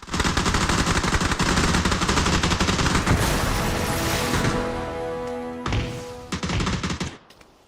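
Dense, rapid gunfire from a PUBG Mobile match, loud and close, with overlapping shots rattling for several seconds before thinning into a few scattered bursts and then stopping.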